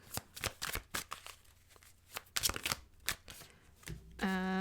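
Tarot cards being shuffled by hand in a series of crisp riffling bursts and soft slaps, fairly close, ending with a sustained tonal chime; no talking.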